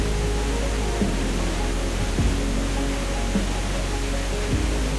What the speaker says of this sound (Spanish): disfrutar de la catarata con calma. El sonido del agua era constante y bastante relajante.